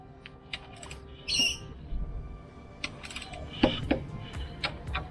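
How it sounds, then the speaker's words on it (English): Torque wrench tightening slider nuts to 18 Nm on a Triumph Tiger 900 GT Pro motorcycle, heard as close, scattered ratcheting clicks and metallic ticks with a few louder snaps near the end. "I'll now tighten it to torque of 18 Newton meters."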